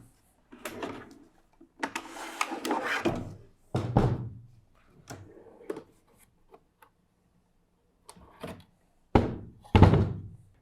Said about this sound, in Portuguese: Vou tirar aqui agora as gavetas para a gente fazer os últimos comentários da estrutura delas.